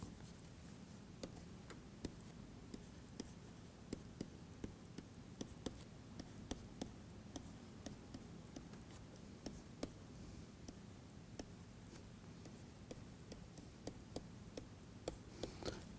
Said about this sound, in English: let me write